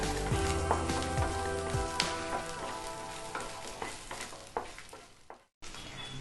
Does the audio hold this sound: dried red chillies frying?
yes